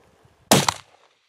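A single sharp gunshot fired at a brown bear outdoors, one loud close crack with a short decaying tail, preceded by faint low rustling.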